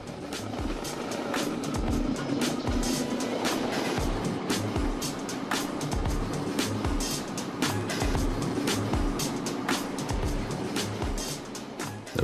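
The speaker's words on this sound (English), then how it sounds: "We continue our journey in this vehicle, a trolley." Railway maintenance trolley riding the rails on a daily inspection trip in Lorestan, Iran: a steady loud rumble with a rapid series of sharp clicks and clacks from the wheels over rail joints, continuing throughout.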